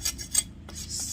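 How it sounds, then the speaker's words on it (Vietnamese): A knife whittling a wooden slingshot handle makes a few short, dry rasping scrapes in quick succession, close by and separated by brief pauses. "bây giờ mình đã vót được ra như thế này rồi"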